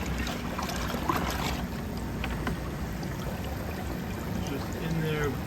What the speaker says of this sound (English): it's just in there bubbling around